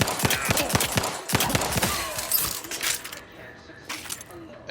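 Rapid pistol fire from a sci-fi shooter game, The Outer Worlds 2, crackling in dense bursts for the first seconds and thinning out later, with faint game voices mixed in.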